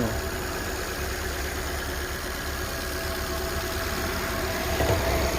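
A 2015 Ford Fiesta 1.5 Sport's 1500 cc engine idles with a steady, even low rumble throughout, close by and unchanging, with no voices.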